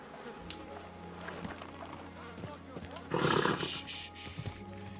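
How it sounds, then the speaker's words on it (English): Horse in the medieval game Kingdom Come Deliverance 2, soft hoof thuds followed by a loud, brief neigh, with someone speaking over it. "Easy. Good horse. Easy."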